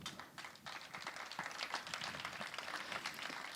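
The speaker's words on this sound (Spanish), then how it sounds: "pido un aplauso fuerte para nuestro sonidista de hoy, Charlie Cabaña." Applause from the audience at a lecture, a dense burst of many hands clapping that stays moderately loud throughout at a slight distance, with no voices.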